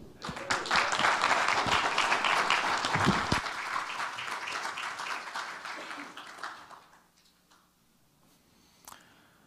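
Audience applause welcoming speaker Keaton Halley at an evening talk, a dense, full round of clapping from a crowd that holds strong for several seconds, then thins and fades away to a few last claps.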